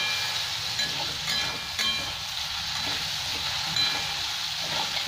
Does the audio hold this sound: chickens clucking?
no